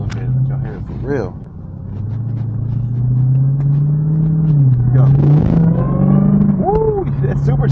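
A 2023 Dodge Challenger Hellcat Redeye pulls hard, its supercharged engine's low growl climbing steadily in pitch and loudness as it accelerates, with a voice speaking over the rising drone.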